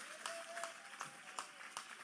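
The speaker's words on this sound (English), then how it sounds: "Give him a round of applause." A commencement audience at a skill center ceremony gives a round of applause, a faint, distant wash of many hands clapping with a few sharper claps standing out.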